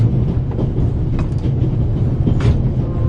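A passenger train in the video game The Raven rolls along with a constant heavy, low rumble and faint rattling carriage clatter, and no voices are heard.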